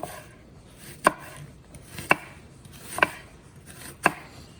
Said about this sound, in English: cut it in half, and then you're gonna want to make some slices, like so